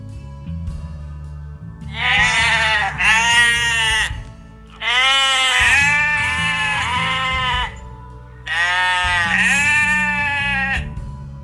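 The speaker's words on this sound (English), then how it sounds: "Sheep." Three long, wavering sheep bleats sound loud and close, spaced by short pauses, over a soft plinking melody underneath.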